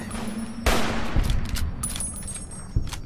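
An explosion goes off in the video game Fallout: New Vegas as a sudden sharp blast. Crackling debris and a second thump follow within a few seconds, at moderate loudness.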